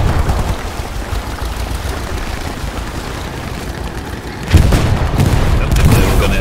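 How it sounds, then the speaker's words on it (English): Explosion in the video game Hell Let Loose, played as a German anti-tank soldier: a low rumbling battlefield din gives way to a sudden loud boom near the end, followed by a sustained heavy roar. "just run away from it, it's gonna explode"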